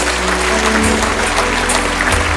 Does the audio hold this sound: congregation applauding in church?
yes